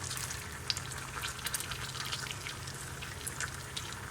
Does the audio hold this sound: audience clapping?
no